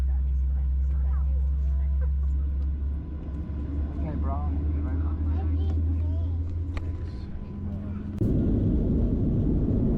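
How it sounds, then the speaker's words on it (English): Qantas airliner pushing back from the terminal at Cairns, heard from inside the cabin as a steady low engine and cabin rumble, with a voice talking over it and the drone growing louder near the end. "Just pushing away from the terminal. Get out onto the runway."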